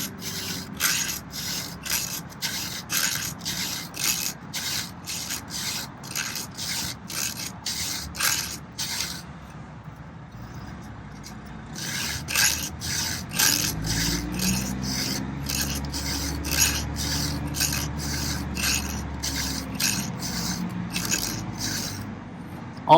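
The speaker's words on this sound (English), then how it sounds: "So you're sharpening this top edge and the inner part." A hand file rasps across a chainsaw chain in steady back-and-forth strokes, each pass a sharp scraping burst in a regular rhythm, close and loud, with a brief pause midway before the strokes resume.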